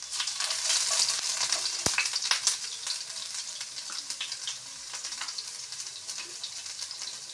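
Chopped onions drop into hot oil and sizzle in a steady, bright hiss that flares loudly at first, then settles into a softer, continuous crackle.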